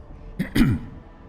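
A voice imitates a high factotum's polite cough: one short, close throat-clearing cough, heard alone.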